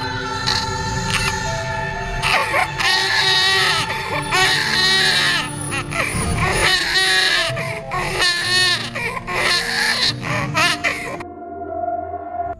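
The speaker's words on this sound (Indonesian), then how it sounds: "di laptopnya ada teriakan suara bayi kecil" A small baby cries and wails loudly from a laptop at night, with repeated sobbing bursts and high whimpers running continuously for about eleven seconds before cutting off abruptly.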